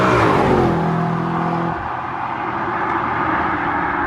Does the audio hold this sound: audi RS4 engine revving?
yes